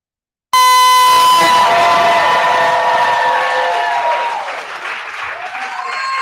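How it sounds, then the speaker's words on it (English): Loud, sustained audience applause and cheering at a queer spoken-word and performance night at Busboys and Poets Brookland, swelling in abruptly and holding steady for several seconds with a bright tonal horn-like blast layered on top. "I want everyone to start clapping it up right now. Start making some noise"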